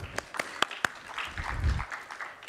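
Audience applause in a pitch contest hall at a startup conference, a few sharp close claps at first, then a steady wash of clapping with a low rumble of crowd noise.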